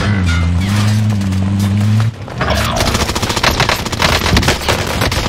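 Heavy automatic gunfire sounds in Apex Legends, a dense rapid rattle of shots. A steady tonal engine-like drone comes before it, then the firing grows loud and sustained over the last few seconds.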